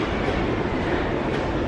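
An MRT train in Singapore rumbles steadily and loudly throughout, a dense continuous roar of a carriage in motion with faint rail clatter and no voices.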